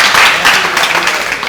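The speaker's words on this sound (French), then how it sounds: "Ah oui, applaudissements, hein." Applause from a television studio audience, a dense, steady patter of many hands heard alone throughout a short burst.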